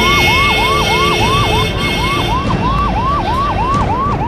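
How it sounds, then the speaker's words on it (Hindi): A loud fire engine siren wails in a rapid repeating rise-and-fall cycle, close and continuous, over a rumbling engine, as fire brigade vehicles respond to a factory fire in Delhi. "लोगों की नींद फायर ब्रिगेड की गाड़ियों के सायरन से खुली"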